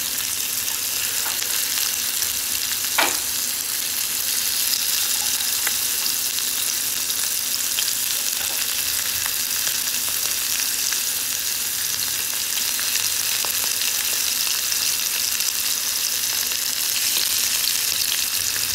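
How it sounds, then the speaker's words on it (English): Shrimp sizzling in a hot pot for a Cajun seafood dinner, a steady, bright, crackling fry with occasional pops, continuous and close, with no voices. "Now, y'all know that sizzle is my absolute favorite part. So while your shrimp is cooking"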